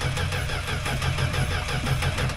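A 1967 Plymouth Valiant engine fires up and runs, a loud, close, steady mechanical rumble with rhythmic pulsing throughout and no talking.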